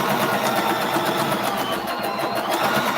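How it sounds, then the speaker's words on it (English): A domestic sewing machine runs steadily, stitching the seam of a boxy fabric bag with a fast, even mechanical whir and rapid needle clatter, close and continuous. "I'm gonna finish my seam"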